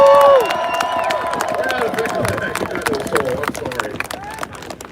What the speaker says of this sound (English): A big round of applause. That's an amazing story.